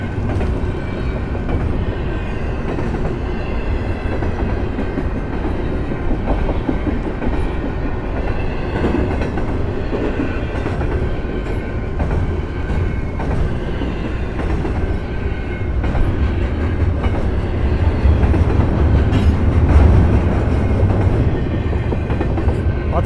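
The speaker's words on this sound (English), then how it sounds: "It doesn't even look like the same train that went through first." A long westbound freight train loaded with containers rolls steadily past at close range, a continuous heavy rumble with rhythmic clickety-clack of wheels over rail joints, loud throughout.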